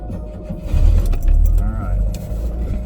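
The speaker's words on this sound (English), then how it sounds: "Okay, we're gonna start the car." A car engine cranks and catches, then settles into a steady low idle rumble, loud and close, with light rattling noise above it.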